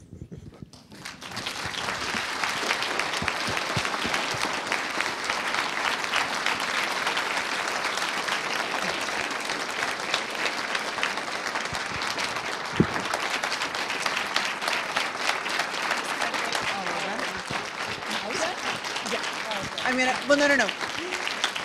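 An audience applauds keynote speaker Janaya Khan with sustained, even clapping that rises after a quiet start and holds for about twenty seconds, with a few voices briefly heard.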